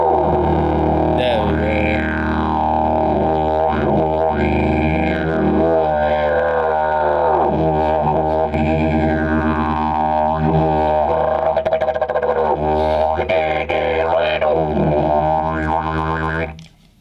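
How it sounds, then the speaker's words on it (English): A didgeridoo drones steadily on one deep note, its tone shifting with warbling overtones and rhythmic vocal accents, close and loud, then cutting off abruptly. "So that's the sound of didgeridoo"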